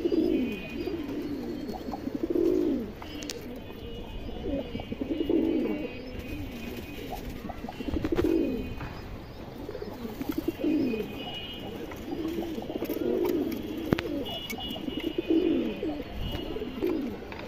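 Kaldom pigeons coo close by in a repeating pattern of soft, low, rolling calls that come every couple of seconds, with faint thin tones and small knocks in the background.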